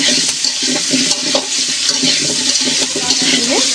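Steady crackling sizzle of potatoes with turmeric frying in hot oil, with occasional stirring scrapes in the pan, continuous and fairly loud throughout.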